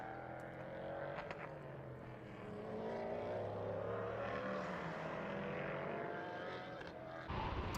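A GT race car engine roars past under hard acceleration at Portimao circuit, its pitch climbing through the gears before fading, heard from trackside at moderate distance.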